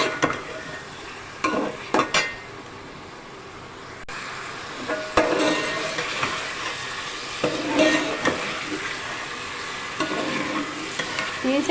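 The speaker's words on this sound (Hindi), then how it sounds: "चिकन को डाल के हमने इसके लहसुन अदरक के साथ बहुत अच्छी तरह फ्राई कर लेना है।" Chicken frying with garlic and ginger in a pan over high heat for a Pakistani-style chicken curry, giving a steady close sizzle broken by scraping and stirring clatter throughout, with no talking.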